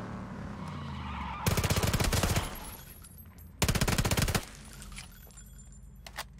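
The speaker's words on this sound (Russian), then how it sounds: "Стрельба." Automatic gunfire in the battle royale game PUBG: two loud, rapid bursts of about a second each, separated by a short gap, over steady background game noise.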